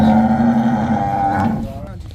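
A buffalo moos loudly and close by on a farm, one long drawn-out low call that trails off at the end.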